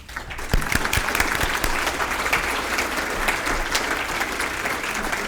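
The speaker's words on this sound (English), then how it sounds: "So Kathy, please stand and accept our applause on behalf of you and Paul." An audience at an employee reunion breaks into sustained applause, dense clapping that starts with a few sharp claps and swells into a steady, even roar for several seconds.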